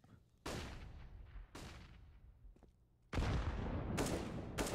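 Grenade blasts and gunfire in a Counter-Strike match on the Inferno map, with three loud broadband bursts that each decay slowly, the last one the longest and heaviest, and no voices.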